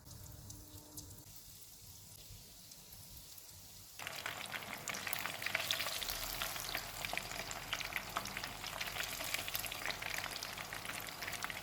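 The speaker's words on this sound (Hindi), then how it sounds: "चिकन फ्राई हो गया, इसको निकाल लेते हैं।" Chicken bites deep-frying in hot oil over a medium-low flame, starting as a quiet sizzle, then jumping to a loud, dense, steady crackle of bubbling oil that runs on unbroken.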